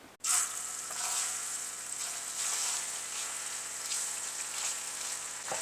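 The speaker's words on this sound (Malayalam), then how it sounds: "ഞാനിത് വെളിച്ചെണ്ണയിലാണ് വറക്കുന്നത്" A constant, bright sizzle of sardines frying in hot coconut oil over medium flame starts right after a brief pause and continues evenly throughout.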